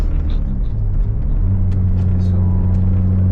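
Small engine of a Renault 5 GT Turbo running with a loud, deep rumble and steady low drone, with people talking over it.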